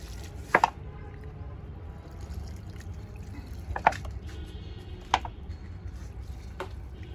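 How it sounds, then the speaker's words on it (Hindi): Water is scooped from a tank on a Uttarakhand farm to water plants, with a few separate splashing pours spaced seconds apart over a quiet outdoor background. "अब ये जो है पानी निकाल रहे हैं अपनी टंकी से पौधों में अपने डालने के लिए।"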